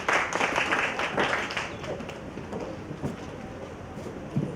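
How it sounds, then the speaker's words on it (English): A crowd claps at a national launch event for a tertiary institutions voter registration campaign, a dense burst that thins and fades within a few seconds. "Give a round of applause, everybody!"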